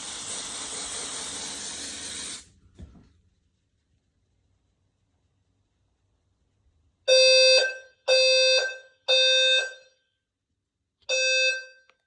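Fire alarm on a Notifier NFS-320c addressable home fire alarm system during a smoke detector test: a loud hiss stops, then after a silence four loud, harsh electronic alarm bursts sound in an uneven rhythm.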